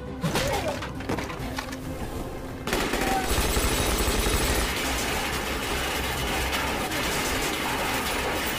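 Gunfire in a heist film scene, a dense, continuous burst of rapid shots and clatter that swells louder partway through and stays chaotic and loud to the end.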